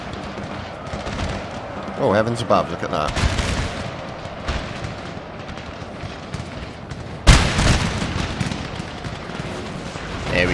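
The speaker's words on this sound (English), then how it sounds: "Keep the cannon firing on them." Cannon fire on a Napoleonic battlefield in Napoleon Total War, Russian campaign: booming artillery rolls beneath constant battle noise, with one loud close blast standing out, while someone talks over it.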